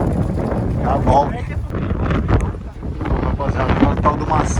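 Strong wind buffets the microphone outdoors during kite flying, giving a loud, rough, rumbling roar that rises and falls throughout, with voices talking beneath it.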